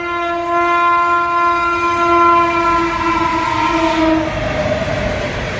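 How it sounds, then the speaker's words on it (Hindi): A train rolls past a closed railway level crossing in India, its horn sounding a long steady blast that holds for about four seconds before fading, over the continuous rumble of the moving cars. "और ट्रेन जा रही है, फाटक बंद है"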